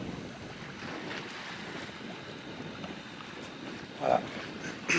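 A sailboat motoring at about 1000 rpm with the genoa up, making four knots on a very calm sea, gives a steady wash of water and wind noise with soft splashes near the end.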